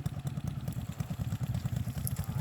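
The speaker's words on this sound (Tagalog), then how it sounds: "Mga trail oh, motor star oh." A trail motorcycle engine putters and clatters steadily at mid distance, a rough rhythmic idle-like running with no speech over it.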